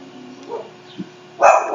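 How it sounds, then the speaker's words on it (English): A dog gives a short, loud bark as people walk past, coming at the end after a few faint, muffled sounds. "There's people walking past, the dogs barking."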